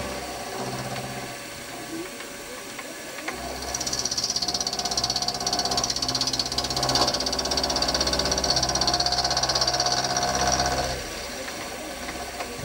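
A lathe cutter machines the eccentric strap for a Stuart Models S50 steam engine, the motor hum rising to a steady loud cutting drone with a faint whine for several seconds, then easing back down.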